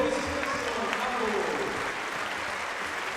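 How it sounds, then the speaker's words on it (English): Audience applause fills an indoor arena for the winners of a women's doubles badminton final, steady and loud, with an announcer's voice over the clapping. "les applaudissements une fois encore pour ces demoiselles"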